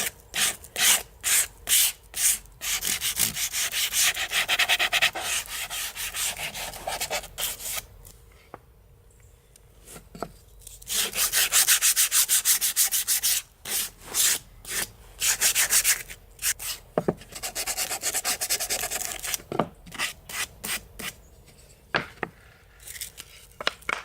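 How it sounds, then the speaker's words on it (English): Wood pieces for a vinyl storage system get a light hand sanding: close, rasping strokes in quick rhythmic bursts, broken by short pauses and separate taps. "Now for a light sand."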